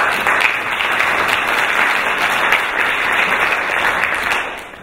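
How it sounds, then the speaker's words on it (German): A room full of people applauding in a workshop setting, with dense, loud, steady clapping that lasts the whole time and fades slightly at the end. "Applaus."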